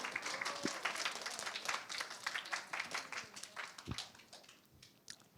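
An audience at a youth camp concert gives scattered applause, a light patter of claps that swells and then thins out, with a few louder claps close by.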